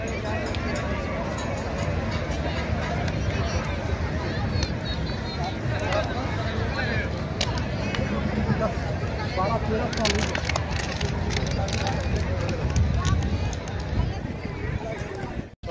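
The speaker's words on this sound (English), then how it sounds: "Catch the crowd. So many people." Crowd of people gathered at Juhu Beach in Mumbai, a steady dense murmur of many voices and general bustle running throughout at an even, moderately loud level, with scattered clatter and movement noises.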